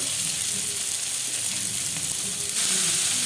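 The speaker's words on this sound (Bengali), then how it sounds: "দিয়ে দিলাম ভেজে রাখা মাছ" Fried fish pieces go into a hot pan of sizzling spice mixture with chopped tomato, producing a steady loud hiss and crackle that swells briefly near the end.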